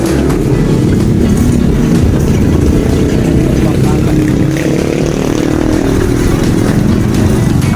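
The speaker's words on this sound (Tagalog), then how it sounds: "Gamit natin motor mga KSOW, yung bagong motor ni Bundalag." A new motorcycle roars loudly on the road, its engine and wind noise forming a dense, steady rumble throughout with no break.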